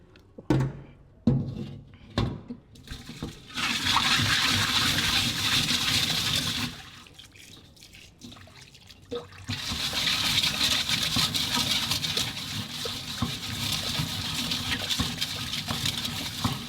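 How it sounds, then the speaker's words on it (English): Water pours and gushes through a laboratory sieve as a soil sample is washed during wet sieving, with a few clinks and taps first, then two long sustained rushing pours separated by a quieter pause. "decant and allow the water to pass through the sieve like that until the water that comes out is clean"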